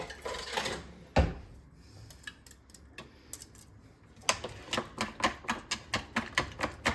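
A wire whisk clatters against a bowl as deviled egg filling gets mixed, starting with a few scattered taps and settling into a steady, quick rhythmic clicking toward the end.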